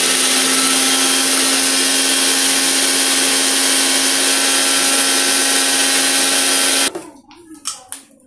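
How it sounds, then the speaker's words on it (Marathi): A kitchen mixer grinder whirs loudly and steadily for about seven seconds while grinding ingredients that include garlic, then stops, followed by a few rattling knocks of the jar. "त्याला हे सगळं वाटून घेते मिक्सर।"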